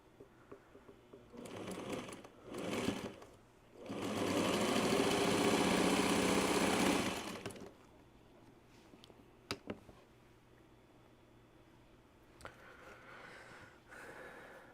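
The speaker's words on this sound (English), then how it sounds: "Just listen to this beautiful 1951 Singer 301." A 1951 Singer 301 sewing machine runs in a steady, dense whir for about four seconds, framed by shorter start-stop bursts before and scattered clicks and handling noises after, with no talking.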